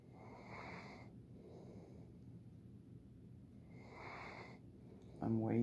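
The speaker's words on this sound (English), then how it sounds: "I'm waiting for that little snore to turn big" A dog napping on a Saturday afternoon snores softly, with slow breathy snores repeating a few seconds apart, close and quiet, and a brief louder noise at the end.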